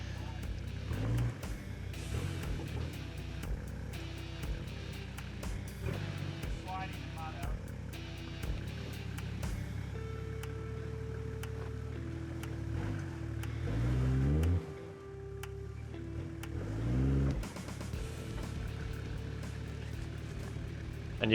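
A Toyota 105 Landcruiser engine revs in bursts as its wheels slip off-road, the pitch climbing and falling repeatedly while someone talks over it.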